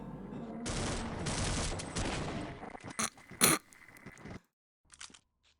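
Grenades go off in the Half-Life video game, a long dense rumbling blast followed by several sharp cracking bursts and scattered debris-like pops before the noise falls away, with no talking.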